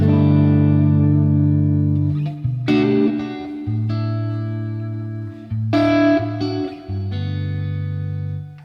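Guitar dry tone through a Fractal modeler using a Morgan AC20 amp model, then cab, delay and spring reverb: sustained chords ring loud and clean, changing every few seconds with strummed attacks, no voice present.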